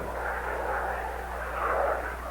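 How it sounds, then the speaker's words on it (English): A low, steady aircraft drone rumbles in the distance, a faint continuous engine roar with no voices over it. "The effect of aircraft noise on our lives is a serious problem."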